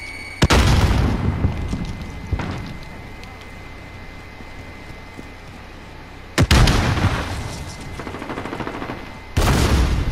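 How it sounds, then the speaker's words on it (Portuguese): Enemy grenade explosions and gunfire in Call of Duty Modern Warfare: several loud sudden blasts spaced seconds apart, each followed by rumbling decay, with scattered shots between. "Inimigos aqui lançando granada!"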